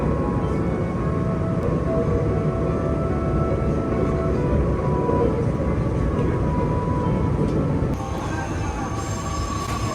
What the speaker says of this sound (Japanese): 列車は斜面を走っているというよりも斜面にへばりついているような感じがします。